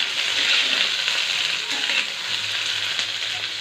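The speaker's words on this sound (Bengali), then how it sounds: "আমি আগে পেঁয়াজগুলোকে দিয়ে একটু ভেজে নেব" Onions frying in a pan for chilli paneer give off a loud, steady sizzle that carries on unbroken, close by, with no one speaking.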